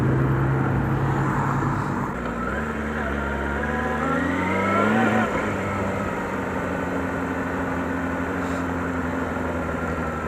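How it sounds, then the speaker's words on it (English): A motorcycle engine revs and settles, rising in pitch then dropping back to a steady idle-like drone, loud and close throughout with no talking. "I can hear the engine revving"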